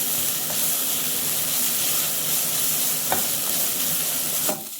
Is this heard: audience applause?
no